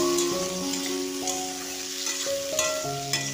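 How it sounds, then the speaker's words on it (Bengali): Chopped small potatoes hitting hot oil in a pan, a bright continuous sizzle with crackles, close and fairly loud, alone without talk. "এরপর আমি 3টা ছোট ছোট সাইজের আলু কেটে কুচি করে আমি তেলে দিয়ে দিলাম"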